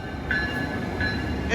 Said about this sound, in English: here comes Capital Corridor train